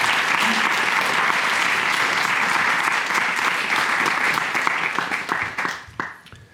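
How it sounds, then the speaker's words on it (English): An audience at a disciples' meeting breaks into loud, sustained applause that holds steady for several seconds, then thins out and fades near the end. "Give them a big round of applause."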